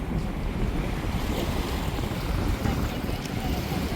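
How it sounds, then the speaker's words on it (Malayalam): Strong wind blowing at a Lakshadweep island seashore, a steady close roar of gusts buffeting the microphone over surf washing in, continuous and loud with no pauses. "നല്ല കാറ്റുണ്ട്"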